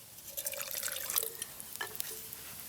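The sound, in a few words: splash of water added to frying pan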